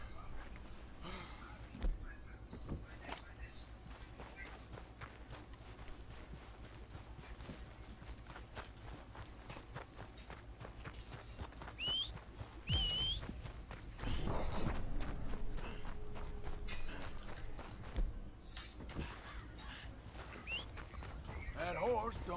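Horse hooves clip-clop in Red Dead Redemption 2, with a whinny and steady hoofbeats under low, faint game ambience, growing busier and louder toward the end.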